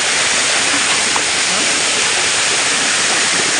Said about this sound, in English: Look the sound of the water guys.